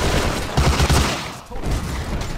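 Bursts of automatic gunfire in the World War II shooter Hidden & Dangerous 2, a dense rattling volley that swells midway and continues steadily throughout, with no talk over it.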